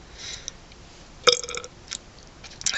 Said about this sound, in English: I hate those wet burps.